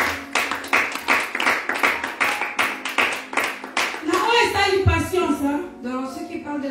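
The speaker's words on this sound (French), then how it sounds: "Acclamons Jésus," A church congregation claps in a steady, rhythmic beat of many hands, then voices rise and carry on over the fading clapping.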